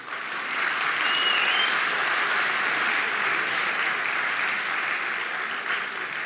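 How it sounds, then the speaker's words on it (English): Large audience at a 2023 international school graduation ceremony applauding steadily, a dense, loud, sustained wash of clapping with no voices on top. "let us give them a round of applause and cheers for their efforts."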